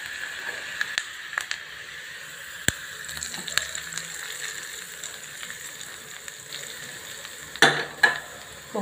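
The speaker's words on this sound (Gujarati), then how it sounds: "હવે આપણે વઘાર ઢોકળીમાં રેડી દેશું." Hot garlic and ginger tempering is poured into guvar (cluster bean) dhokli, giving a short burst of sizzling near the end after quiet stretches broken by a few sharp clinks.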